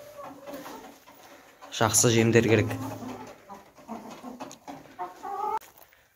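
Hens cluck in a warm coop, bursts of clucking and fowl calls rising loudly partway through, with someone talking over and between them.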